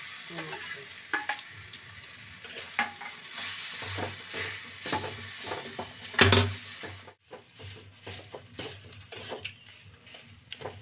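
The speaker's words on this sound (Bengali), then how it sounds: "মশলাটা একটু ভাজা হোক। আমি এই গ্রেট করা আলুগুলো সিদ্ধ করে রেখেছিলাম, এই আলুগুলো আমি দিয়ে দিচ্ছি।" Grated boiled potatoes frying with spices in a wok, stirred with a metal utensil that scrapes and clinks against the pan over a steady sizzle, with one sharp louder clatter midway.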